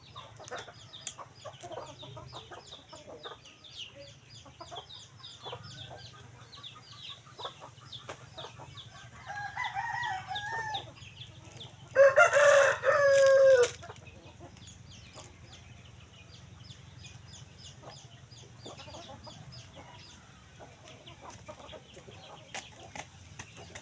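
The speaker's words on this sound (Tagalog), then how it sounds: "Ito na naman ako dito sa manok." Chickens clucking steadily around a yard with a rooster crowing loudly once midway, scattered rustling underneath.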